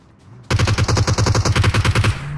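Automatic gunfire in the battle royale game BGMI: after a short quiet lead-in, a rapid, evenly spaced burst of about twenty loud close shots rattles for over a second and a half, then stops abruptly.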